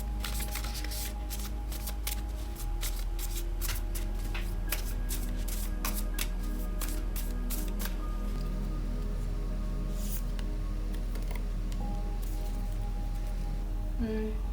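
Oracle cards get shuffled by hand in a quick run of crisp riffling snaps and flutters that fill the first half, then slow to softer sliding and tapping. The sound is close, and no voice is heard.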